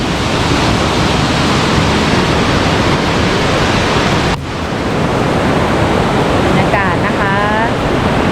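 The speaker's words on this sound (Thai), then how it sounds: "ก็สามารถเดินเรียบเข้าไปตรง น้ำตกคลองลานได้เลยนะคะ" Rushing water pours down the Khlong Lan waterfall in a steady, loud, roaring wash that stays close and constant, with a brief dip midway and a faint higher sound near the end.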